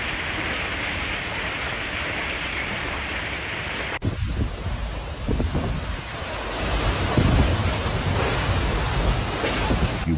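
Hail pelts down steadily in a storm with rumbling thunder, a dense, loud roar that shifts abruptly and grows heavier, with sharp knocks and low rolling booms throughout.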